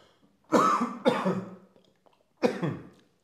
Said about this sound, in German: ich muss kurz husten